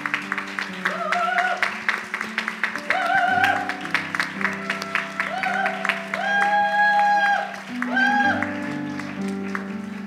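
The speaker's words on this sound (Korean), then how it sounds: "나오실 때 박수로 맞이하도록 하겠습니다." A church congregation at a Sunday chapel claps to welcome new staff members forward, light steady applause under a backdrop of music and voices.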